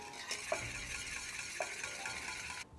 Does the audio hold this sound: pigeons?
no